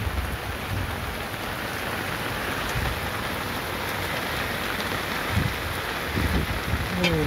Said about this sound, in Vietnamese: Mưa quá mưa cả nhà ơi.